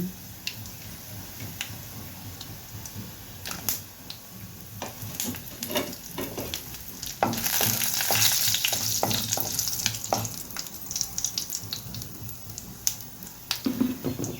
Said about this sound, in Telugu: అలాగే ఎండుమిర్చి వేసుకుందాము